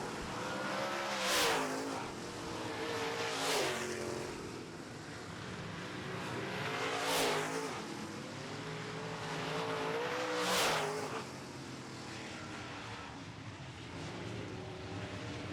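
Late model race cars roar around the track in a feature race, engines swelling as packs pass close by roughly every few seconds, with a steady distant drone between passes.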